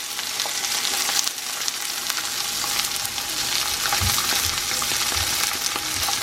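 Chicken sears in a hot pan with a loud, steady sizzle and crackle, close up, with a few soft low knocks from stirring or shifting the pan.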